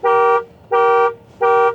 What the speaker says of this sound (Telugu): అండ్ ఇంకా హారన్ విషయానికి వస్తే